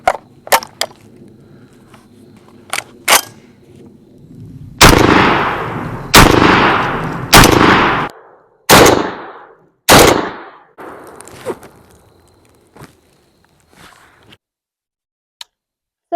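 A Rock Island Armory VRF14 shotgun firing slug rounds, five loud booming shots in a row, each followed by a long decaying echo. Quieter clicks and handling noises come before and after.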